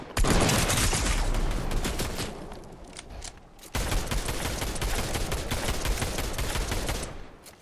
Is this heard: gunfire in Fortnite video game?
yes